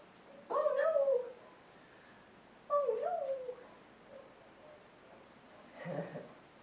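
A young male puppy lets out two drawn-out, high whining whimpers close by, then a fainter third cry, with quiet pauses between them.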